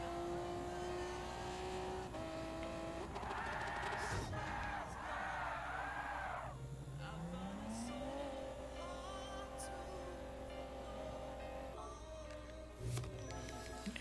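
Race car engines in the Gran Turismo Sport video game rev and shift through gears at a distance, with tire squeal and a few sharp bursts over a steady background hum.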